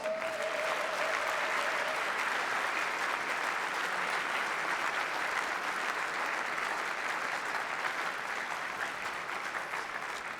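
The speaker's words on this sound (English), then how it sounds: "Can I have one more round of applause in the meantime, please, for Omar Mosaad?" Sustained applause from an audience at a professional squash quarterfinal, steady dense clapping filling the whole stretch at an even level, with a faint tone briefly in the background at the start.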